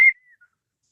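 A person imitates the Katniss Everdeen whistle: a single short, clear whistled note that glides slightly downward and fades quickly, heard alone.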